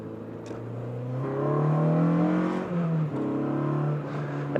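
Honda Civic EG hatchback with a K20A engine, untuned, accelerating hard with a loud, rising engine tone that climbs through the revs, briefly dips at a gear change, then pulls up again, heard close without talk.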